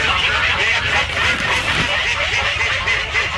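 Ducks quack near a greenhouse, a dense, continuous chatter of calls from a flock that carries through the whole stretch at steady loudness.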